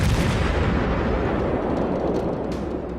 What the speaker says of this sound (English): Now, of course, the first broadside.